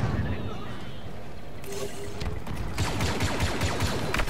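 Blaster fire crackles in Star Wars Battlefront II, with scattered shots growing into a dense, rapid volley in the later part over constant battle noise, and a voice talking throughout.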